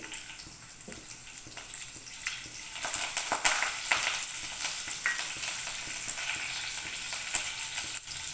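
Cumin, fenugreek and green chilli sizzle in hot oil for a Marathi alu leaf dish, a steady crackling fry that grows louder and busier partway through, with sharp spattering pops and no talk.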